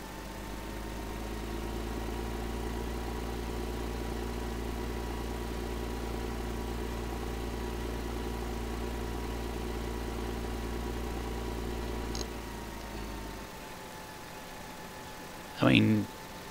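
A tractor engine idles with a steady low drone in Farming Simulator 2013, running evenly for about twelve seconds before cutting out, followed by a brief click.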